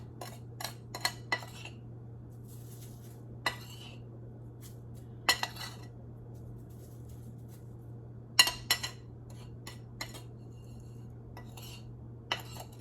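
A spoon clinks against a bowl while stirring turmeric powder and pink Himalayan salt together before they go onto vegetables. The sharp clinks are scattered and irregular over a steady low hum, and no one speaks.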